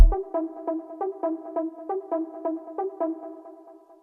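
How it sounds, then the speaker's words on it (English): A melodic sample played on an Akai MPC repeats as a rapid pulsing pattern of bell-like tones, then trails off as its reverb and delay tail fades out, with no voices. "Once again, you hear that reverb and delay tail."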